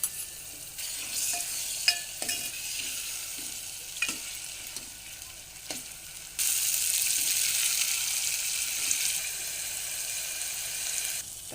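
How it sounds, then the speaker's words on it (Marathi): Tomatoes and ginger-garlic paste sauté in a pan for a sprouted val bean curry, a continuous near sizzle with intermittent clicks of a spoon, the frying growing louder and denser partway through, no talking. "टोमॅटो परतल्यावर यामध्ये आपण साधारण दोन ते तीन चमचे अदरक लसूणची पेस्ट टाकून पुन्हा परतवूया"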